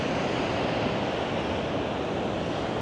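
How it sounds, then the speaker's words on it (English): Rough ocean surf breaks on a beach in Da Nang, Vietnam, a steady dense roar of waves with wind rushing over the microphone and no talking. "The beach is a little bit rough. You can see the waves."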